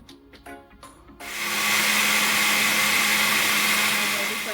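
A blender whirs on steadily and loudly after a second or so of quiet handling noises, its motor holding a constant high-pitched drone.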